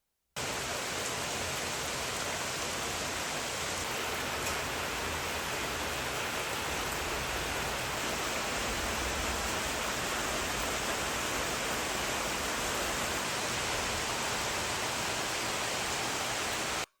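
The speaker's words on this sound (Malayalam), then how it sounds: "മഴയൊക്കെ ആയിട്ടേ വീണ്ടും പെയ്യാൻ തുടങ്ങി മഴ." Rain falling at a family home in Kerala, a steady wash of dense, even hiss that continues unbroken throughout, with no talk over it.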